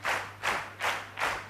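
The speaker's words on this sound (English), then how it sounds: "Because they start clapping like that, and then they go boom, boom, boom, boom." An Israeli audience claps in four loud rhythmic bursts, each swelling and fading in a steady pulse, close and full with no talk over it.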